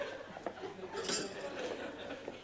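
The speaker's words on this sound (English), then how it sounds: "May I have the spoon to stir my kiffy?" A spoon clinks and rattles against a coffee cup as it stirs, a few light metallic chinks in a short, clattery burst at moderate level over a faint background.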